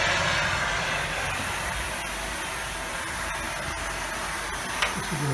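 Steam vents outside from a boiler rig as a steady, broad hiss with a low rumble beneath, continuous and fairly loud, with a few faint clicks near the end.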